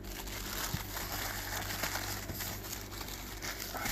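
A plastic bag holding a boxed laptop part is opened up close, giving soft, quiet crinkling and rustling with a few small crackles.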